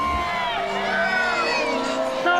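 Crowd cheering and whooping at a film premiere, with fans dressed as hobbits in ears, wigs and hairy feet lining the road; dense, continuous excited shouts with overlapping voices, steady and fairly close throughout.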